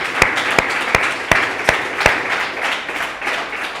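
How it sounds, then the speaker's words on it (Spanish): A church congregation claps together, with a few sharp, rhythmic claps rising over a broad wash of applause that gradually softens toward the end. "Un aplauso para Él."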